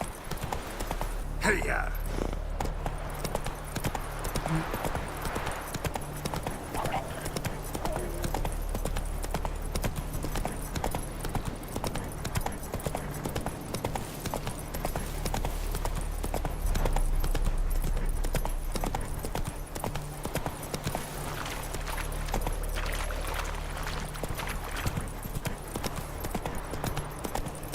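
Horse hooves clip-clop steadily through a ride in The Witcher 3 video game, a continuous rhythmic trot under constant game ambience, with a rider calling out and voices speaking over it.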